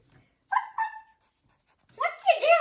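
A puppy gives two short whimpering yelps, then a louder, longer run of yips and whines close by, with quiet pauses between the bursts.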